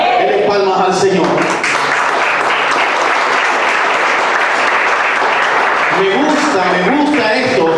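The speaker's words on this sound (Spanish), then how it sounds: "Denle palmas al Señor." A church congregation claps loudly and continuously during a Spanish-language sermon, with a voice speaking over the clapping at the start and again near the end.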